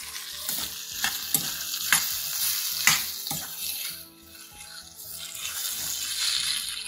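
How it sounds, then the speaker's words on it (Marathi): Sliced radish stir-fries uncovered in oil over a high flame, with a steady sizzle. Sharp scraping strokes of a spatula stirring the pan recur about once a second, close and loud, and no voices are heard. "झाकण काढलं आणि नुसतंच आता छान तेलावर परतणार"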